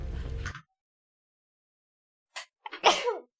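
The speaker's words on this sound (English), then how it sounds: "I needed to sneeze" A single person sneezes nearby, with a short sharp intake and burst after a pause of silence, preceded by a brief low sound at the start.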